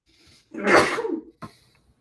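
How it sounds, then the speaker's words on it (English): A single sharp sneeze from a spectator at a Collins Scrabble championship match, fairly close in a quiet room, followed after a short pause by a brief soft sound. "Sneeze in the background"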